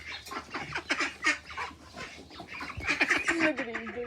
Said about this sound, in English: There's a few chickens.